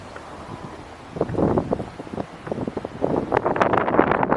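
Wind gusts rush and buffet the microphone outdoors beside a dirty Ford EcoSport, building from a low rumble into stronger, irregular blasts toward the end.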